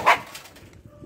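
A dog gives one sharp bark close by near a kennel, then the sound quickly fades into quiet background noise.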